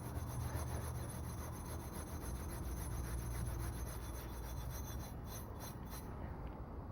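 A coarse stainless steel scrubber rasps back and forth against a metal knife blade made from scrap, a close, continuous gritty scraping with no talking.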